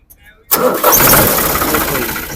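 A 55 HP tractor engine starts up: a brief quiet lead-in, then a sudden loud catch that settles into a close, steady rumbling idle, while someone talks over it.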